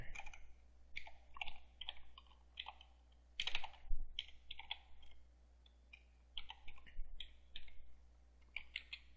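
Fast keyboard typing of a web address on a computer keyboard, with irregular bursts of clicky keystrokes and short pauses, close and fairly quiet with no talking.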